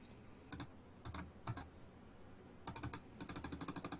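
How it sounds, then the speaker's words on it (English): Rapid bursts of small plastic clicks from a computer mouse during an online tabletop role-playing session, sparse at first and then a fast steady run, close and fairly quiet with no talk. "I'm clicking like mad there."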